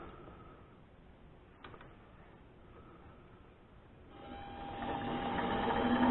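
Metal lathe spindle spinning up, a steady mechanical whir that swells louder and brighter over the last couple of seconds, with a brief clunk early on.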